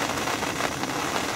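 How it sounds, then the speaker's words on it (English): Rain falls steadily during a thunderstorm, an even wash of patter with no talking, brief and at moderate level. "Rain's coming down."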